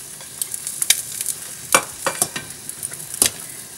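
Chopped cabbage and thick choy sum stems hit a hot pan and sizzle, with sharp crackling pops and bursts of frying under soft stirring, fairly close and without talk.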